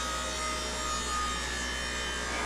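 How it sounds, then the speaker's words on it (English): An old auger being cut up during spring repairs gives a steady, continuous grinding-rubbing noise of metal cutting, loud and unbroken for the whole stretch, with no talking. "I'm going to go ahead and cut that old auger up"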